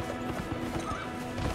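A horse in the video game Elden Ring gallops with quick rhythmic clip-clop hoofbeats and lets out a short neigh, fairly quiet and brief.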